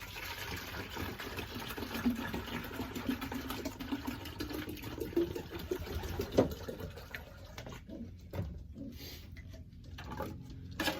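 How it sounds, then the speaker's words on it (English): A plastic pigeon waterer jug is filled with water, giving a low, steady rushing flow with a rising fill tone that continues for several seconds before tapering off into quieter splashing. "Filling one of these waters up is extremely simple. Just fill it up like a jug."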